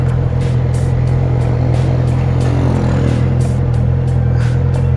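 Road traffic on a busy Sunday evening street in Ayvalık, with a steady close engine drone and repeated clatters and passing-vehicle noises, no talking.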